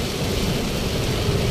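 Heavy rain pours down during a cloudburst in the Dang district of South Gujarat, a steady, loud, dense broadband roar that continues unbroken throughout.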